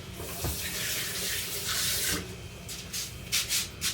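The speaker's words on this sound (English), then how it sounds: "I'm going to rinse my hands" Water runs steadily from a kitchen tap as hands are rinsed, a close continuous splash that breaks into a few short bursts near the end, with no talking.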